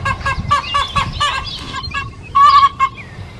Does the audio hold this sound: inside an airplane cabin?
no